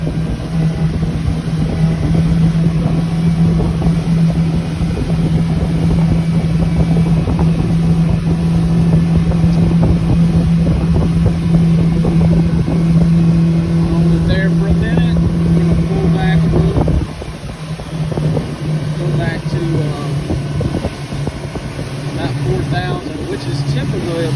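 A motorboat with a 3-blade stainless steel prop runs at about 25 mph near 5,000 rpm, its engine a loud, steady drone mixed with wind rush, dipping briefly in pitch partway through.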